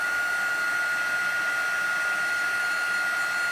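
A heat tool blows steadily over embossing powder on a rubber-stamped image, giving a continuous, even whooshing hum from start to finish with no talk over it.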